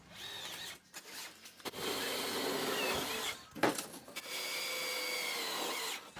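A power tool cuts through a plywood sheet for a homemade hydraulic tipper, with loud whining bursts separated by short pauses.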